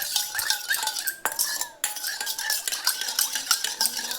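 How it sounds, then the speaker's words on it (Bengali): A spoon scrapes and clinks steadily against a bowl while chicken marinade with pepper and chili powder is stirred, close and fairly loud, with a brief pause midway and no talk. "এবার এটাকে আমি কিন্তু ভালোভাবে মিক্সড করে নেব।"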